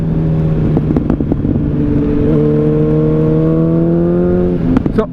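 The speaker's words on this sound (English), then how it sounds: "my bike makes loud popping noises" A motorcycle engine running steadily with a loud, close droning hum that rises slightly in pitch, while sharp popping cracks punch through early on and again just before the end.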